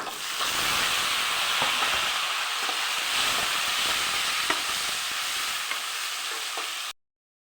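Tomatoes and fenugreek seeds sizzle steadily in a hot pan for a tamarind-style flat bean curry, a constant broadband hiss with faint scattered stirring ticks, close and alone, cutting off abruptly near the end.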